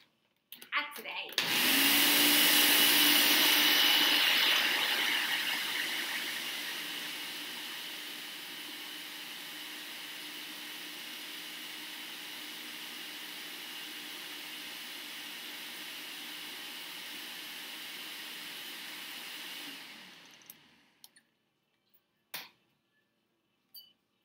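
A Vitamix blender runs loud for about twenty seconds in a warm home kitchen during vegan mushroom burger prep, a steady high-powered whir with a harsh start that settles lower and then cuts off, followed by a few small clicks.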